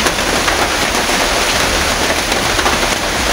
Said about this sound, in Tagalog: Malakas ang ulan guys, kaya dito muna kami sa payag.